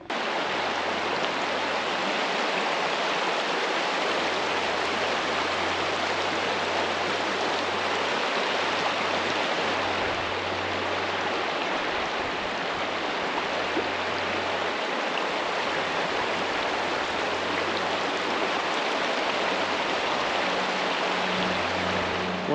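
Steady broadband rush of a stream flowing across a trail water crossing on a snowy, icy, muddy 4x4 route, continuous and fairly loud, with a low engine hum underneath at times.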